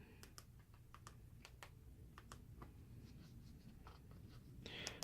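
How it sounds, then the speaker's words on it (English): Keys clack on an Ambolove T16 wireless mini keyboard with backlight, a quiet, close run of irregular taps with short pauses, ending in a slightly louder burst. "Let's take a look at how the keyboard functions."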